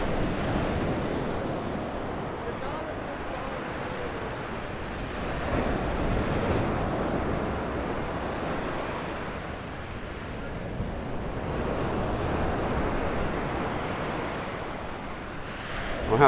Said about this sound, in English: It is quite windy, which is nice.